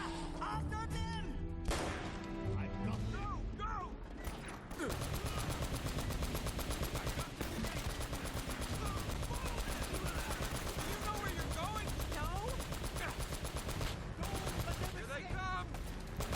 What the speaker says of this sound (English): See the giant machine gun?